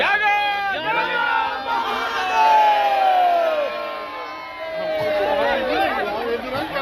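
A large crowd gathered for an ashes immersion ceremony in Varanasi: many overlapping voices chatter and call out at once, close and steady throughout, with a few raised shouts standing out from the din.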